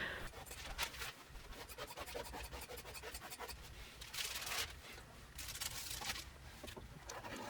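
Scissors cutting cotton fabric on a tabletop, a steady run of rasping, scraping snips that swell louder in a few bursts, close by with no talking.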